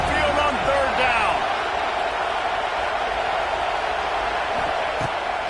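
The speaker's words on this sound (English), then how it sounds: "The Tide crowd rolling noise down on the Saban field on third down" Steady stadium crowd roar from a college football video game, a home crowd on third down, sustained and dense throughout with a few brief higher cheers early on.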